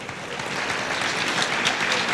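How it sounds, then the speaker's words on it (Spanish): Audience applause greeting Carlos Vives at a vallenato and botany science event at Parque Explora, a loud, dense, continuous clapping from a large crowd. "Para quien pide un aplauso"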